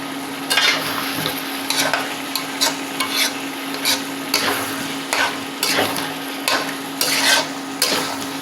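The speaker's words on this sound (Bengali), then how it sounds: "এখন এভাবে কিছুক্ষণ কষিয়ে নেব, মাঝে মধ্যে নেড়ে দিব।" Potato, pumpkin and pointed gourd curry sautés in a pan, with repeated rhythmic scraping stir strokes over a constant sizzle, up close and with no voices.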